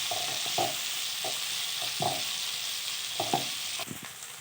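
Chopped onions fry and sizzle steadily in a pan for village-style country chicken sambar, with a broad continuous hiss broken by occasional scraping stirs; no talking.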